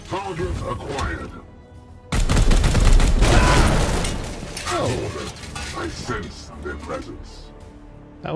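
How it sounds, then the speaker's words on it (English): A sudden loud explosion from the video game Chaos Gate: Daemonhunters bursts in after quieter game sounds, followed by a decaying rumble and scattered debris-like clatter while a person talks over it. "Was a little bit bigger of an explosion than I thought it was going to be."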